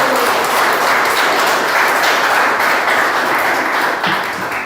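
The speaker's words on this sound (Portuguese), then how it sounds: "Dá uma salva de palmas para Jesus aí." Church congregation applauding together, a dense, loud, steady wash of clapping that holds evenly throughout with no break.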